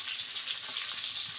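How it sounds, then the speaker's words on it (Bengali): Padma river hilsa fish frying in hot oil for an Eid lunch; a steady, bright sizzle close by, even and continuous throughout, with no voices. "ইলিশ মাছ ভাজা"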